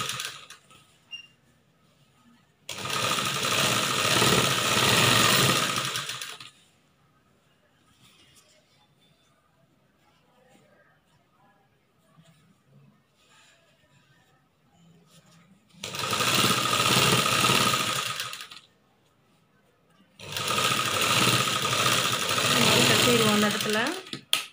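An electric sewing machine stitches a churidar top in three loud, rapid mechanical bursts of a few seconds each, separated by quiet pauses.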